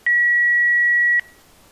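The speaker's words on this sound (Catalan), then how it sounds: "Si no oblides deixar el teu missatge després del bip." A single answering machine beep sounds before a message is left: one pure, steady electronic tone lasting about a second, loud and clean, followed by near silence.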